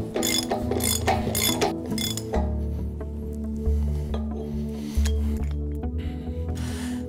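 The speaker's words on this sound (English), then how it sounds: "Now do up the hub nut while rotating the hub in both directions." A hub nut is done up on a trailer axle with a unitised wheel bearing while the hub is turned back and forth, giving loud ratcheting clicks and metallic clinks over a low grinding rumble, close by and with no speech.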